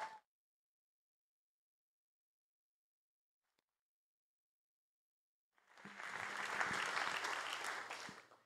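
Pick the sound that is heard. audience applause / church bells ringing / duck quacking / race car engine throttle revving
audience applause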